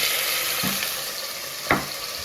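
Chicken pieces browning in a soup pot, a steady close sizzle and hiss running throughout, with two brief stirring or shifting sounds breaking through.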